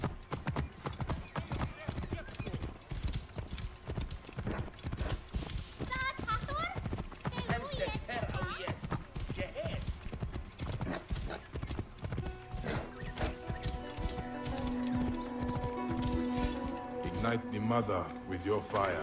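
Horse hooves clip-clop at a steady gallop in Assassin's Creed Origins, a continuous close rhythm with a brief whinny, under game music and a man's speech.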